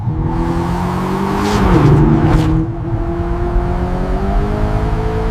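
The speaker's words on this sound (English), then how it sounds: "Each vehicle is test-driven before delivery." A Toyota Land Cruiser on a test drive, its engine humming steadily with tonal whir, briefly swelling louder as it accelerates past near the middle, then settling back to an even drone.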